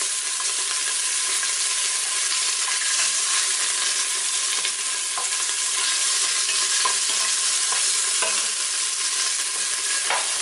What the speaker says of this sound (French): Donc le mieux c'est de dorer les 4 faces, comme ça, sans pour autant cuire totalement la viande.